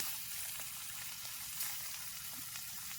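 Pangas fish coated in turmeric, chili and salt fries in hot oil, giving a steady, close sizzle with a faint stirring scrape partway through.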